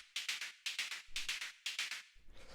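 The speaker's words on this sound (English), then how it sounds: "After that we have the second operator shaker," Synthesized shaker from an Operator synth, layered beneath another shaker as detail for organic house and techno drums: bright hissy bursts in tight groups of three or four, repeating in a steady rhythmic pattern with occasional soft low thumps.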